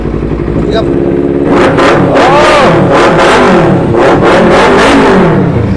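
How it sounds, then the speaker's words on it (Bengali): A second-hand motorcycle with about 20,000 km on it revs up repeatedly from idle, loud and close, each throttle blip rising and falling in a pulsing rhythm, with a person's voice audible underneath. "গাড়ির আওয়াজটা শুনুন"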